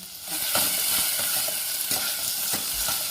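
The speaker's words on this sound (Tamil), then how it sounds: "தக்காளி சேர்த்துக்குவோம். வதங்கட்டும்." Tomatoes with salt sauté in a pan for a cowpea kuzhambu: a constant loud sizzle with regular stirring strokes roughly every half second, no one talking.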